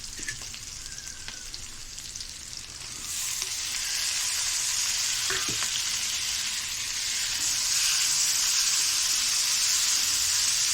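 Onions frying in a pan as the base for a mushroom gravy: steady, dense close sizzling throughout, growing slightly louder partway through, with a few faint clinks and no talk.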